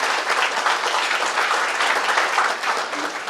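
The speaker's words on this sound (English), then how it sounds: "So another round of applause for everybody who's helped" Sustained applause from an audience at a university business plan competition final, dense steady clapping across the whole stretch with no voices on top.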